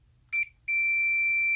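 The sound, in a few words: multimeter continuity test beep as probe leads connect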